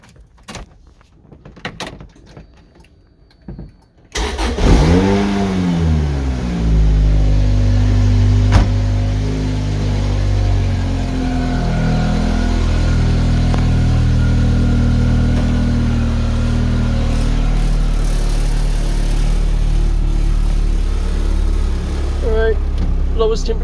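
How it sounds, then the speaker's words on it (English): A Lotus Exige S is started after some faint clicks and knocks; the engine catches with a rising burst, then settles into a loud, steady idle that continues unbroken to the end. "Alright, let's start the car."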